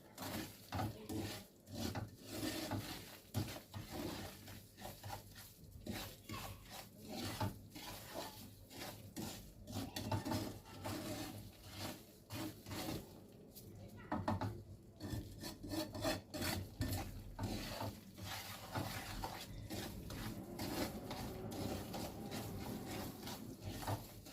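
Semolina roasting in a pan for Turkish semolina halva, stirred with a spoon in continuous gritty scraping and rasping strokes, close and steady with occasional light clinks against the pan, no talking.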